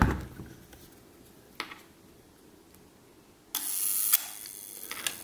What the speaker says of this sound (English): That's your shutter curtain.